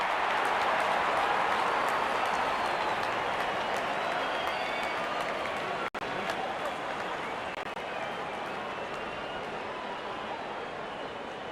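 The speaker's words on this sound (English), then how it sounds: "Openers walking in and the crowd cheering in anticipation" A stadium crowd in a cricket video game roars in anticipation as openers walk out, a continuous broad wash of cheering and clapping with one sharp click midway.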